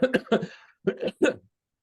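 Two quick clusters of harsh, throaty coughs, close and fairly loud, separated by a short pause and followed by silence.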